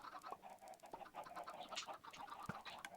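Many chickens cluck and squawk continuously on an automatic chicken farm in Minecraft 1.5, a dense overlapping chorus of short, close calls with one sharper, louder squawk near the end.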